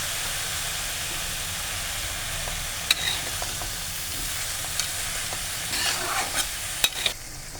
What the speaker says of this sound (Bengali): বেগুনটাকে তেলের মধ্যে নাড়িয়ে নাড়িয়ে মানে এটা অল্প অল্প ভাজা হবে